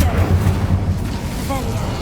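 A fiery Incendio spell blast in Hogwarts Legacy gives a loud, rumbling boom that fills the whole moment, with a low roar sustained under game ambience.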